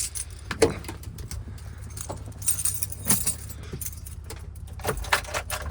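A bunch of keys jangles in repeated metallic bursts close by at the ignition of an off-road vehicle on a snowy day, over a low, steady rumble from the vehicle.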